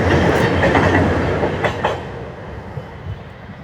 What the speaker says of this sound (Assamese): আমাৰ এই দলংখন দি শিলঘাটৰ পৰা এই ট্ৰেইনখন যায় গুৱাহাটীলৈ